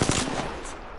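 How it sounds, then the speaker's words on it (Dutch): Distant gunfire in the battle royale game Apex Legends on the World's Edge map, a short burst of rapid shots that rings out briefly and then fades into a quieter tail. "Dan zit er een van ver af te schieten."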